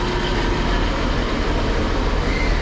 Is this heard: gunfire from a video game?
no